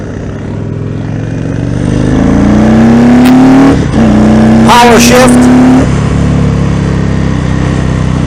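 A 2019 Indian Springfield Dark Horse motorcycle engine, loud and close, revving up through a clutchless power shift, the pitch climbing, dropping at the gear change and rising again, with a voice talking over it.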